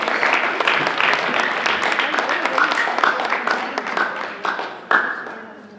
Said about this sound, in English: let's have one more round of applause for all of our scouts